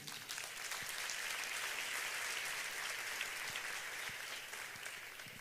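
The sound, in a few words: church congregation applauding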